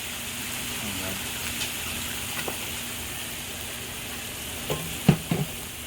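Vegetables and tofu stir-frying in a pan with a splash of water and soy sauce, giving a steady soft sizzle throughout with a few brief louder scrapes and clatters near the end.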